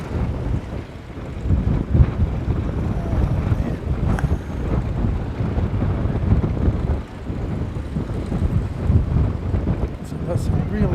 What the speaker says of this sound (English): So that's some really blustery conditions.